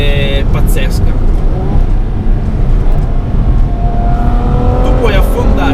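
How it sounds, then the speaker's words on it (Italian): A Ferrari F12 in race mode pulls hard in fourth gear, its engine note climbing steadily and loudly from inside the cabin, with rising tones throughout and a driver talking over it. "il motore ha una progressione veramente pazzesca."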